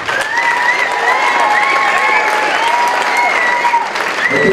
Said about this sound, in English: One more time, round of applause for our sectional champion football team.